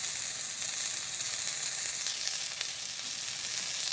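Water lily stems frying in hot oil with onion and chili in a village kitchen, a loud, continuous close sizzle with faint stirring scrapes and no talk.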